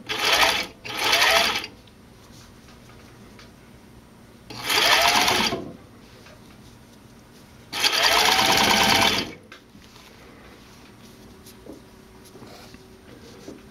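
Sewing machine stitching the side seam of a racer-back tank top, four separate whirring runs of a second or two each, the later ones longer, with quiet handling noise between them.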